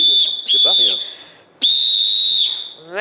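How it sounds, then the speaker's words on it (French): A presenter blows a referee-style whistle in two long shrill blasts, loud and close, with a voice briefly speaking in the gap. "je suis obligée d'user de mon sifflet avec vous"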